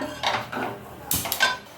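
Metal cookware clanks as a biryani pot is handled and set down in a home kitchen, with several sharp clatters and scraping contacts close by, no talking.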